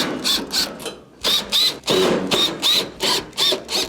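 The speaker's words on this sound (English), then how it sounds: "remove the Phillips screws that are holding it on" A screwdriver works loose the Phillips screws holding a Whirlpool stove panel, giving a rhythmic series of short squeaky turning strokes with brief pauses between them, close and clear.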